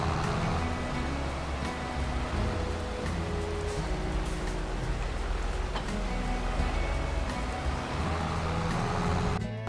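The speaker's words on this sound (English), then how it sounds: "the rain is absolutely pelting down on us" Heavy rain pelting down outdoors, a dense steady patter with scattered sharper drops and a low rumble beneath, continuous and fairly loud throughout.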